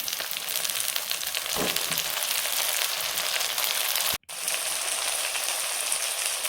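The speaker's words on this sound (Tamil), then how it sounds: "வெங்காயம் கொஞ்சம் நல்லா வதங்கட்டும்." Onions and chopped tomatoes sauté in a pan for a bottle gourd dish, giving a steady, dense sizzle and crackle throughout with one very brief dropout near the end.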